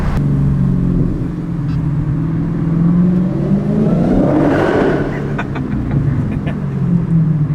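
Dodge Challenger Hellcat engine rumbling loudly from inside the car while driving, the deep growl building into a rev and then easing back to a steady drone.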